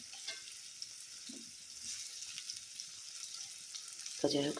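Chicken pieces fry in hot oil with a steady, soft sizzle, quiet and close, broken by a few faint stirring knocks and a clatter near the end.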